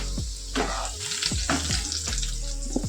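Potatoes frying in hot oil for Bengali egg pilau, sizzling steadily close up, with repeated scraping and clinking strokes as pieces are lifted out.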